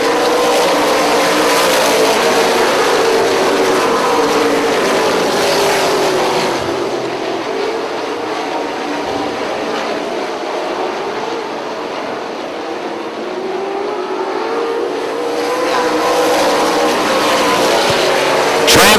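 Late model race cars roar around a track at full throttle, a dense, loud wall of engine noise that swells and dips as the field passes, with no talk over it.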